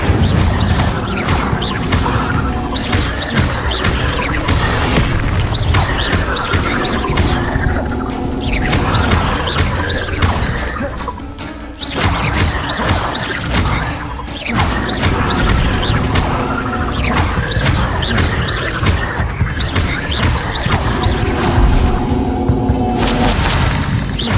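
A fire spell cast in a wizard video game gives a loud crashing, booming burst amid dense, continuous game effects and layered noise that run the whole time, with brief dips in between.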